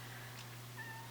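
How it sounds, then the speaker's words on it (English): A domestic cat gives a faint meow indoors, a short rising-and-falling call over a low steady hum, with no talking. "The cat."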